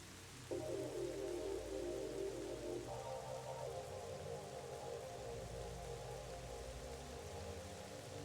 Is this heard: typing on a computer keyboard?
no